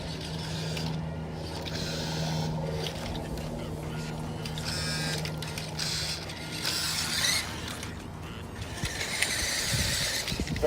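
A WPL-B 1/16 scale RC army truck drives close by, its small electric motor and gears whirring and squealing in uneven bursts as it starts and stops, with creaks and clicks from the chassis.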